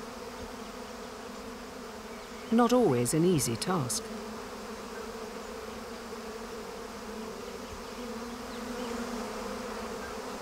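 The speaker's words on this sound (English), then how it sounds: "the returning bee must make its way into the hive to deliver its precious cargo" Many bees hum in a steady, droning buzz around the hive, with a voice briefly speaking over it partway through.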